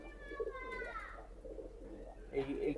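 Pakistani tournament pigeons coo in repeated soft, throaty phrases close by, mixed with some faint background voices.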